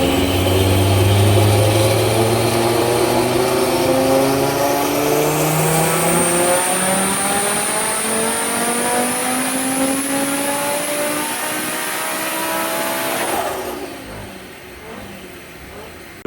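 A 1000+hp Volkswagen Golf R engine revs hard on a dyno, pitch climbing steadily through the gears in a loud, close pull before cutting off and dropping away near the end.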